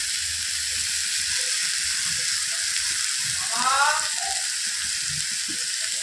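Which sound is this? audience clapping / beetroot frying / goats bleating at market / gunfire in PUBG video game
beetroot frying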